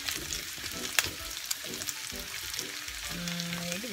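Pork and butternut squash frying together in a pan, a moderate crackling sizzle with a few sharp stirring clicks, fairly quiet, with a faint tonal hum near the end.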